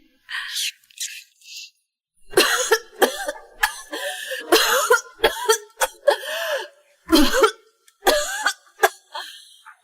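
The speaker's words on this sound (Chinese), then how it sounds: "妈，你咳嗽这么厉害" A mother coughing heavily, repeated harsh close coughs in uneven bursts with short gasping pauses between them, mostly alone with little else heard.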